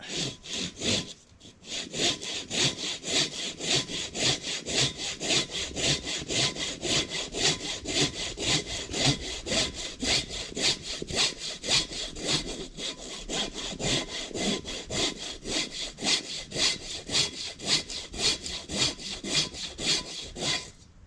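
A hand saw rasps through wood in steady back-and-forth strokes during outdoor trail clearing, each pass a rhythmic scrape, continuing at an even pace throughout.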